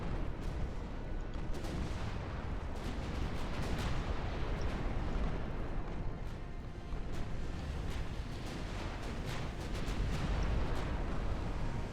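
Naval gunfire in the Ultimate Admiral Dreadnoughts warship game: a dense, continuous barrage of booming shots and rumbling impacts fills the whole stretch, with no voices over it.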